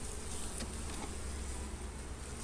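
Honey bees drone steadily in a hive, a close, continuous buzzing hum without pauses or talking.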